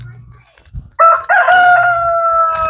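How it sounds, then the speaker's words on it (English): A rooster crows loudly and close by in a backyard garden, a single long cock-a-doodle-doo with a sharp rise and a sustained, wavering tail, after a short quiet stretch with faint background clucking. "Victoria loves the chicken."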